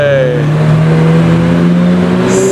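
A McLaren 765LT supercar drives past at close range, its loud engine note rising and sliding in pitch over a couple of seconds, with a high whine near the end.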